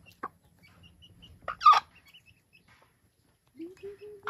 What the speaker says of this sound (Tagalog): Ayan na. Manok